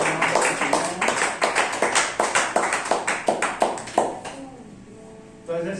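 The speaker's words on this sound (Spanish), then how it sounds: "Levanten una ofrenda de aplauso" A church congregation applauds together in a steady burst of rhythmic, fairly loud clapping that fades out after about four seconds, leaving a quiet room.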